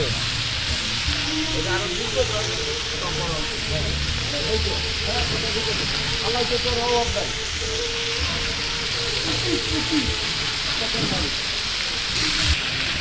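Butter chicken sizzling and frying in butter in a pan, a steady dense crackle and hiss running the whole time at close range, with voices talking over it.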